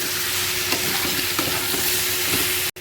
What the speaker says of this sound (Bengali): সব উপকরণ একসাথে একটু নেড়ে চেড়ে নেব।